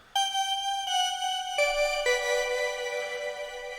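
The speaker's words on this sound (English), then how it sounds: "Then we had a lead sound that sounds like this." Synthwave synthesizer lead plays a melody of sustained, bright, harmonically rich notes, each changing pitch step by step, loud and close with no talking.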